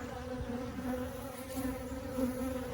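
Bees buzzing steadily around beehives during normal hive activity, a continuous close drone that holds level throughout with no talking.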